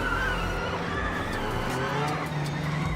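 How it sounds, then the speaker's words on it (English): An Audi RS Q e-tron Dakar rally car drones with a steady, constant mechanical hum like a truck refrigeration unit, dense low rumble and tire noise from inside the cabin, fairly quiet throughout. "Listening to the engine, it's like listening to the refrigerator on the back of a big truck"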